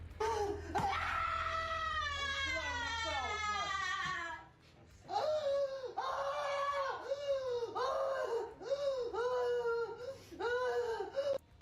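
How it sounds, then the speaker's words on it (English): A woman in a meltdown screams wordlessly: a long, high, wavering shriek, then a short pause and a string of repeated, sobbing wails, loud and close. "This woman couldn't even muster words and just screamed during her meltdown."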